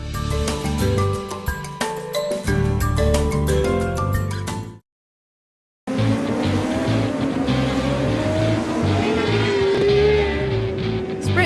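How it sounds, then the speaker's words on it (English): Sprint cars racing on a track, engines roaring loud and close as they pass. A short silent gap breaks the sound before the racing noise resumes. "Sprint car racing."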